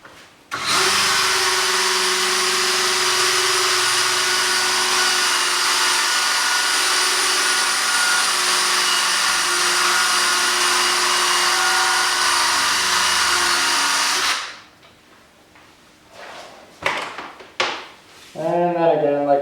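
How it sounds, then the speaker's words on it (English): A rotary nylon brush spins against a ski base for a polish finish, a loud steady whir running for about fourteen seconds before it winds down, followed by brief handling noises and a few spoken words. "The nylon brush just gives it a nice finished polish texture, which is going to glide faster on the snow."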